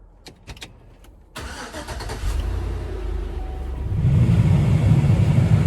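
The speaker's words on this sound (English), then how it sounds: "But now I turn the key, start the truck up." A 2004 Chevy Suburban Z71 engine cranks with a few clicks, catches with a sharp start, then settles into a steady idle that rises slightly as the blower fan comes on.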